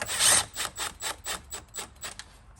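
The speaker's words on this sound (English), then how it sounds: "reinstall the two 10mm air dam bolts. I'm just going to screw these in by hand." Hand-threading 10mm air dam bolts on a 10th-generation Honda Civic Type R, a close series of short scraping, rasping turns that repeat roughly every quarter second, loudest at first and fading.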